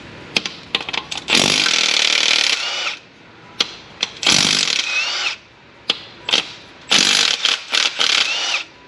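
A Milwaukee cordless impact wrench removes thread-locked flex plate bolts on a 2012 Chevrolet Avalanche 5.3 4x4. It gives several loud, close hammering bursts of a second or two each, separated by short quiet gaps.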